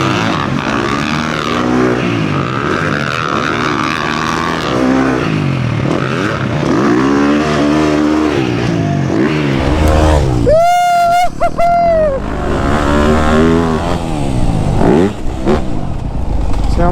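A Yamaha YZ250F dirt bike revs hard over a big jump, the engine note rising and falling through throttle blips, loud and close, with a brief high-pitched surge partway through.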